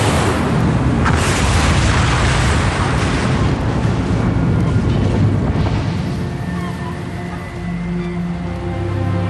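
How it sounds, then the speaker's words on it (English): A loud, deafening explosion booms and rumbles through a long roaring tail that slowly fades while staying heavy and close. "residents of Peggy's Cove hear a deafening explosion"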